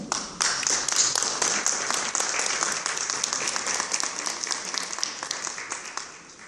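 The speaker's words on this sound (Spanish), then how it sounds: "Lo recibimos con un fuerte aplauso." Audience applause at a press conference, a dense, steady clapping from a sizeable crowd that starts abruptly and continues loudly throughout without any speech.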